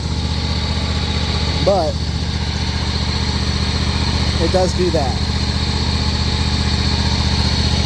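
A John Deere X520 lawn tractor engine idles steadily and loudly throughout, a constant droning hum, while someone talks briefly over it.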